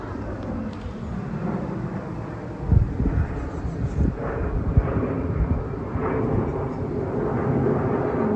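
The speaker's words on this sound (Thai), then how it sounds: "เสียงเครื่องบิน" Airplane passing over a vegetable garden with tomatoes and beans, a loud, broad, continuous low roar that holds steady and swells slightly toward the end, with no voices.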